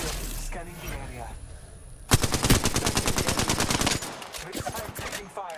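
Gunfire in the video game Apex Legends, a dense rapid burst of automatic fire lasting about two seconds and then a few scattered shots, loud and close with some speech nearby.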